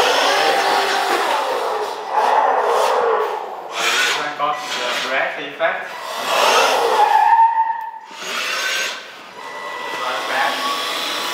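A remote-controlled KingKang 4WD amphibious bigfoot off-road car speeds and jumps, its electric motor whining in repeated surging bursts with scraping, rubbing tire noise between quieter gaps.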